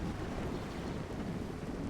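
Steady rain with rumbling thunder in a Star Wars Battlefront 2008 game mod, a dense continuous wash of downpour and low roll filling the whole moment, loud and unbroken with no voices.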